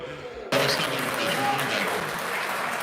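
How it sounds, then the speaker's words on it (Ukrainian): Applause in a Ukrainian parliament session starts abruptly and holds as a dense, sustained wash of clapping, with voices talking over it. "і всі слуги аплодують"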